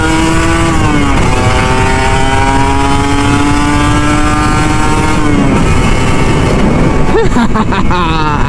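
A Kawasaki Ninja RR 150 two-stroke motorcycle revs hard while riding in Jakarta, its engine a loud, close, buzzing drone that rises and falls through repeated throttle blips and gear changes, with wind rush and no talking.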